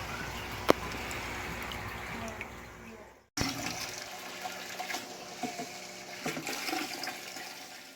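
Water gushes into a bucket of pool filter sand being rinsed for use as aquarium substrate. The pour is a fairly quiet, steady rushing with a short break midway, and no one speaks.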